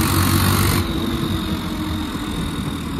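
An old tractor engine runs at idle nearby, giving a loud, steady, rumbling drone that settles slightly after the first second.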